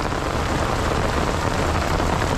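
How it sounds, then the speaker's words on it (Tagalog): Heavy storm rain pounding down outdoors during a fishing tournament, a dense, loud, continuous roar of close-up rainfall with no break and no voices. "binagyo tayo bigla, lakas ng ulan"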